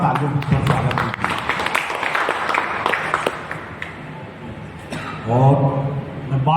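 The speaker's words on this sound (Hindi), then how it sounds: "आप मनोज बाबू का तालियों पर स्वागत कीजिए" Audience at a community meeting in a marriage hall in Bhagalpur clapping to welcome a speaker, a moderate crowd applause mixed with voices and talk nearby.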